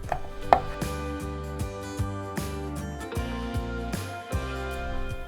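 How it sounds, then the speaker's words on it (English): A knife coarsely chops black pitted Kalamata olives on a cutting board, giving a quick series of regular, close thuds with light background music and no voice. "We have about 1 cup of black pitted Kalamata olives. Just going to give those a coarse chop."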